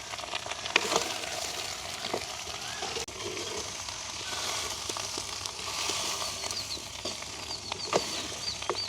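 Jackfruit curry with onions fries and is turned in a pan in a village kitchen, giving a close, continuous sizzle broken by scraping stirs and soft clicks, with no clear talk.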